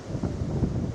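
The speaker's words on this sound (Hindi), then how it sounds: "तेज़ हवाएं चल रही हैं, बारिश लगातार हो रही है।" Strong cyclone winds of Cyclone Remal lash coastal West Bengal, a steady, dense roar of buffeting gusts battering the microphone throughout, with no voices.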